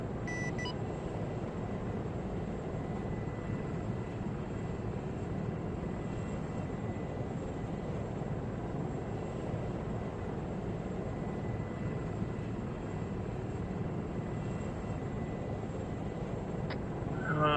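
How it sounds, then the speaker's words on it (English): Military flight-sim style game audio with a jet roaring low overhead at about 350 meters, a broad sustained engine rumble that swells and holds close, with a faint beep near the end. "had another jet just come right off our freaking top, about 350 meters"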